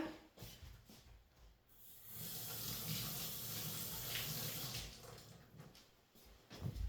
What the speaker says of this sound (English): just give this a quick rinse